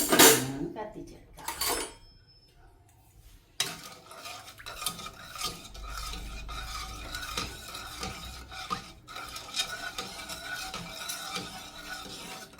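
Milk powder is stirred and roasted in a pan, with a spoon scraping and clinking against the metal in steady strokes, loud at first then continuing with softer rasping.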